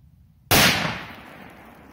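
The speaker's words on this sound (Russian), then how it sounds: "Очень мощные петарды." A Spanish Cracker firecracker made by Fieri bursts with one sudden, very loud bang after near silence, leaving a long crackling, fading roar of echo.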